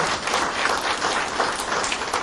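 An audience claps steadily for Ricky Thornton Jr., the new Knoxville track record holder, with dense, even applause filling the whole moment and no voices rising above it.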